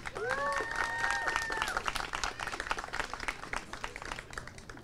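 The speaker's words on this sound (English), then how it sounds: "so please give them a round of applause." An audience at a Ramadan lighting ceremony in East Brunswick applauds steadily, a dense clatter of clapping that fades slightly toward the end, with a brief voice near the start.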